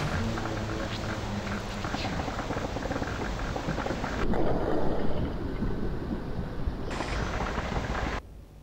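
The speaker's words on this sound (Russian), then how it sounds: "Ветер. Опасно." Wind storm in the video game Metro: Last Light, a loud, continuous roaring rush of wind with gusting swells and abrupt shifts in intensity, no voices over it.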